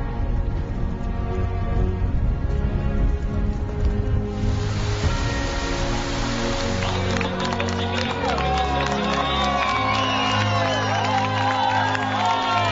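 A huge crowd cheering and applauding as a runner arrives at the Ultra Trail du Mont-Blanc finish, a continuous roar that swells midway, with music and a commentator's voice over it.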